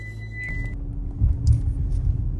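A car engine rumbles low as it starts up and pulls away on a California coast drive, swelling slightly louder near the middle and holding a steady throb with no talk.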